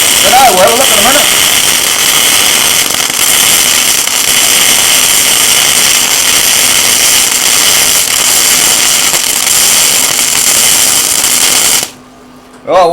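Gasless MIG welder running a continuous bead, steady loud crackling hiss and sizzle held for about twelve seconds before cutting off, with a brief voice at the start.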